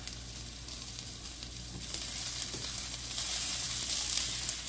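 Sliced green chillies fry in a pan of hot oil for bok choy soup, giving a steady, soft sizzle that runs continuously and grows slightly louder toward the end.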